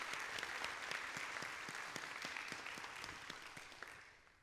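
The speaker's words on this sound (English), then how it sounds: "please give Jill Levine a round of applause for all the hard work that she did getting you guys through it" Audience applause at a university nursing convocation, dense steady clapping from a sizeable crowd that holds fairly even, then slowly thins and fades toward the end, with no voices over it.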